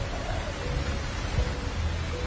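A strong storm at an airport accident site, with wind gusting and rain beating down in a continuous rumbling wash and some low buffeting, heard without any talk.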